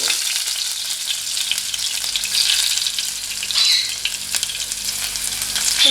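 Chopped garlic hitting hot oil in a pan and frying with a bright, crackling sizzle, close and steady with small swells and occasional stirring, no speech.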